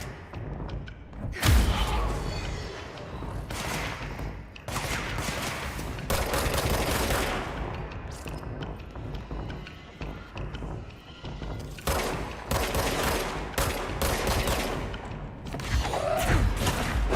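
Shotgun fire in the video game Control: several heavy, booming blasts spread across the stretch, mixed with dense game action and a low, busy background.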